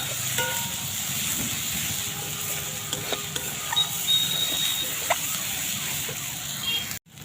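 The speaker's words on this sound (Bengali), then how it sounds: "আদা রসুনটাকে দিয়ে একটু কষতে থাকবে।" Ginger and garlic sizzle in a hot pan as they are stirred, a continuous crackling fry with occasional scraping clinks of a utensil against the pan.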